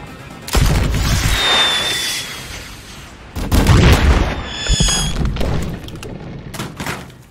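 Loud weapon fire at a sniper in the Call of Duty Advanced Warfare campaign: two heavy, booming volleys with rattling shots and whistling tones, then fading rumble.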